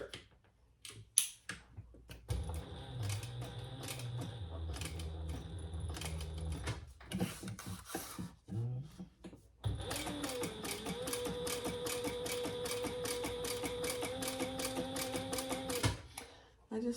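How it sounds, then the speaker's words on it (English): A sewing machine stitches along a marked line on a bag project, its fast mechanical whir running in two long bursts with brief pauses, close up. "we're going to sew along that line"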